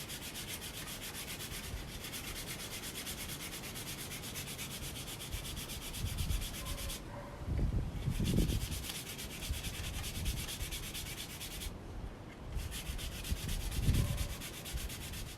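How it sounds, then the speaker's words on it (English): A hand-carved wooden spoon handle is sanded with sandpaper, a close, steady rasping rub that swells into louder strokes toward the middle and end, with no talk. "So you just want to sand it."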